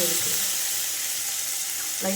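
Water is sprinkled over a capsicum masala stir fry in a hot pan, bringing a steady, close hiss of sizzling with a few bubbling crackles and no talking.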